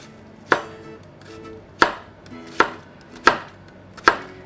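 A knife slices through an onion for latkes on a cutting board, five crisp, evenly spaced chops ringing out close and clear in otherwise quiet surroundings.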